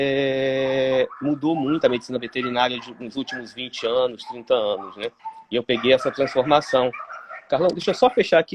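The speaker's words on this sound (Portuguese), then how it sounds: "na rua tem um monte de cachorro latindo" Someone talks close up while several dogs bark and yip out in the street, the barking scattered and somewhat distant.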